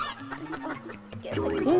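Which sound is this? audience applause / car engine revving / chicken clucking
chicken clucking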